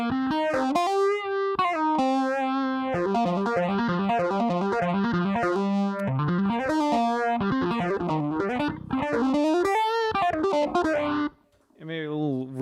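Bass guitar notes with a strong sweeping phaser effect, the tone swirling up and down in rhythmic waves; a voice speaks briefly near the end.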